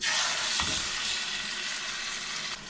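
Tuna steak, butterflied, searing in a hot pan, giving a steady broadband sizzle throughout with a few brief spikes of spatter, close and fairly loud with no talking.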